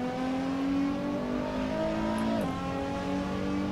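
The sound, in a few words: Nissan GTR engine revving in Assetto Corsa video game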